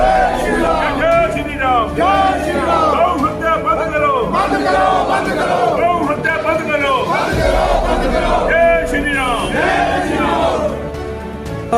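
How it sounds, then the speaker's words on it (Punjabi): A large crowd chants the religious slogan "Jai Shri Ram" loudly in unison, repeating it again and again in a steady rhythm with shouting voices throughout. "ਜੈਕਾਰਾ ਵੀ ਬਜਾਂਗੇ ਜੈ ਸ਼੍ਰੀ ਰਾਮ ਜੈ ਸ਼੍ਰੀ ਰਾਮ"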